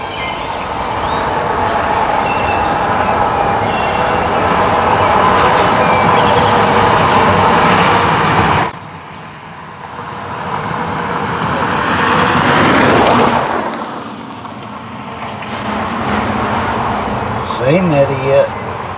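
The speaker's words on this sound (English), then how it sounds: "It's the same car went by earlier on this gravel road." A car passes along a gravel road at night. Its broad rushing noise holds steady, drops away, then swells and fades again as it goes by, with a few faint clicks near the end.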